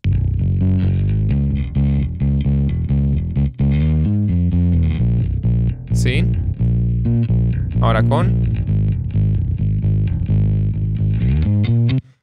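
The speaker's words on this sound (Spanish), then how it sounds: "Alcanzamos a escuchar como un poquito más presente la distorsión que agregamos en esta pista" Distorted bass track in a mix, a thick, saturated low line with sustained gritty harmonics playing continuously, with a brief spoken remark at the start.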